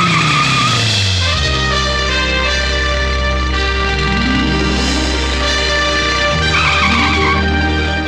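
A car swerving sharply through a turn, tires skidding and squealing loudly over a roaring engine in a Tamil comedy film scene, with no voices over it.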